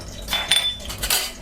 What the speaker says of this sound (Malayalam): ഞാനിവിടെ ഈ കാഷ്യൂ ഒന്ന് ഇട്ട് കൊടുക്കുകയാണ്.